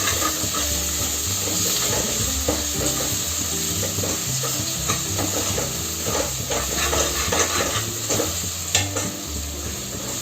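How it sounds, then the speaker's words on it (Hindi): Garlic-ginger paste and onions fry in a pan with a steady, close sizzle and hiss, broken by frequent stirring scrapes throughout; no talking. "पेस्ट जो है ये बहुत ही अच्छी खुशबू देता है जब ये फ्राई होता है प्याज के साथ"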